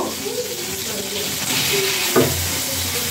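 Prawns frying in a pan with a continuous close sizzle and occasional stirring scrapes, a soft voice speaking underneath.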